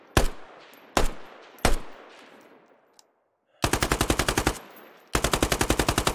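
Three single AK rifle shots ring out with echoing tails, then two rapid bursts of automatic gunfire, loud and close, without any speech, in the video game Squad.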